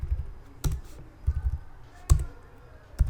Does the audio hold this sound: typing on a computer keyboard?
yes